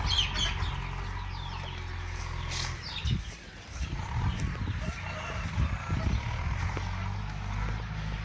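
Chickens clucking around a Thai village farm raising free-range native chickens and chicks, a steady low farmyard murmur with scattered clucks and occasional louder bursts throughout.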